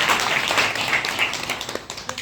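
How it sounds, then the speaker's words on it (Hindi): An audience at an AWPL planning meeting gives loud applause for the presenter, a dense wash of many hands clapping together that thins toward the end into a few scattered claps. "सर के लिए जोरदार ताली होना चाहिए"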